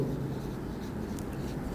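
Pen or chalk scratching out a maths solution on a writing surface in a classroom lesson, a steady, continuous scraping texture that runs the whole moment without pauses.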